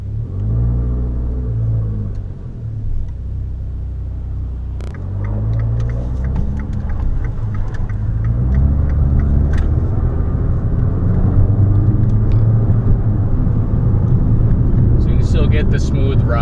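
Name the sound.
2015 Fiat 500 Abarth driving, heard from inside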